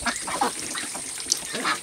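Pekin ducks on a duck farm quack in a close, busy chorus of overlapping nasal calls, with a few sharper quacks standing out.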